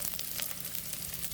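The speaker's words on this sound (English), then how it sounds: "Then next the onion, throw in all" Onion frying in a pan gives a brief, faint, steady sizzle with soft crackling bursts, heard alone without talk.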